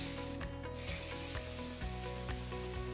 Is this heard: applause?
no